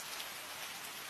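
Steady rain falls on a surface as a dense, even hiss of countless drops, constant and fairly close throughout, with no voices or other sounds.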